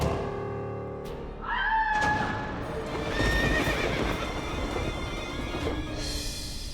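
A horse gives a loud, drawn-out whinny, followed by the steady clip-clop of its hooves close by, set against a dramatic background rumble, with no talk.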